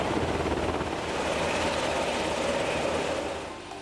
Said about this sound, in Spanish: Decenas de helicópteros han sido movilizados para los rescates.